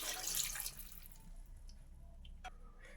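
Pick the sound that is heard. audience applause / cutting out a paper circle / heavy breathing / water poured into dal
water poured into dal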